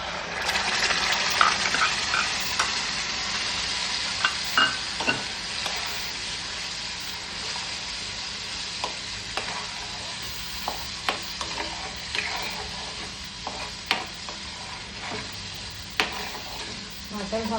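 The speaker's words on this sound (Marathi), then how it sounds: "आता आपण हे वाटण ह्याच्यामध्ये परतून घेऊया" Ground green masala paste for a pomfret green curry sizzles in hot oil, a strong hiss that eases slightly over time, broken by repeated sharp clicks of a spoon stirring against the pan.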